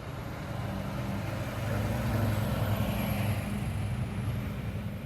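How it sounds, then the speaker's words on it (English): Dump trucks roll along a railroad line undergoing repair work, producing a steady, fairly loud low engine rumble that swells slightly midway and carries on continuously without speech. "The railroad's got dump trucks rolling up through here."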